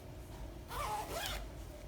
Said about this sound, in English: zip up my zipper like this